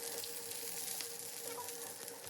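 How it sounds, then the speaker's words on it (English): Spinach sizzling steadily as it fries in a pan, a continuous close crackling hiss with no talk over it. "fry it. It will be easily fried within 3 to 4 minutes."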